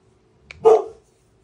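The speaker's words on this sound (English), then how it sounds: "He's barking in the background here." A single sharp bark from a dog somewhere nearby in a quiet room, one short yelp-like burst with a softer lead-in, otherwise silence.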